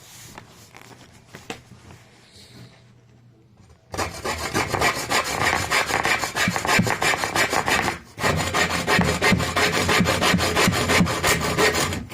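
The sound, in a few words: hand saw with converted blade cutting wood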